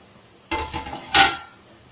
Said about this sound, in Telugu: మూత తీస్తాము.